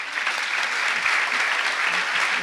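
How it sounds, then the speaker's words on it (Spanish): At a book launch, an audience gives the author warm applause, steady many-handed clapping at moderate loudness that carries evenly throughout. "Un cariñoso aplauso para usted."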